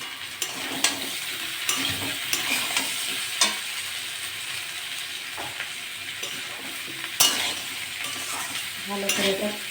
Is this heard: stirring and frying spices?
yes